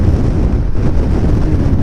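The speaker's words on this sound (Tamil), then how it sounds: "செமையாக காற்றடிக்குது." Strong wind roars across a motorcycle on the road at around 80–85, with rain also falling. The buffeting is loud, dense and constant from start to finish, with no voices.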